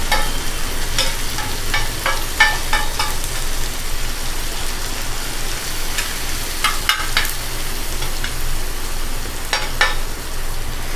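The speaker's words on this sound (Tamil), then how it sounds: "தக்காளி நல்லா வதங்கட்டும் நம்மளுக்கு." Tomatoes sauté in a flat iron pan with a steady, dense sizzle throughout, broken by occasional scraping stirs of the spatula. No voices are heard.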